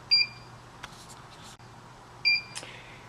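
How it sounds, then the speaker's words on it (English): An InOne VMC machine controller gives two short, clear electronic beeps about two seconds apart as the infrared drop-sensor beam is broken, with a soft low hum underneath. "When you wave your hand between the sensors, the LED will blink and the VMC will beep"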